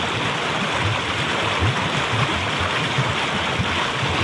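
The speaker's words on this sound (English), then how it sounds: "Gurgling away." Water gurgles over a big rock in a mountain stream near a campsite, a steady close rushing and burbling flow that carries on without a break.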